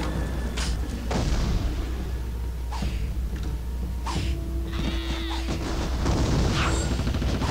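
Explosions in the video game TimeSplitters Future Perfect: several loud booming blasts burst out one after another over a steady game background, with a brief tonal hum in between.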